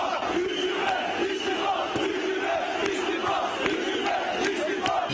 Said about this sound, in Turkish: sarı lacivertliler UEFA ve AKP aleyhine sık sık tezahüratta bulundu